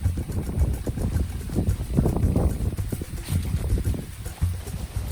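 Strong wind buffets the microphone on a coastal cape beside banana gardens, a continuous loud rumbling roar with gusty surges and no voices.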